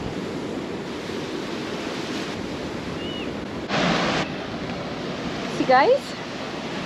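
Ocean waves wash steadily below a high viewpoint overlooking the sea along a Southeast Asian coast, a constant surf rush with wind buffeting the microphone, one short louder gust, and a person briefly speaking near the end.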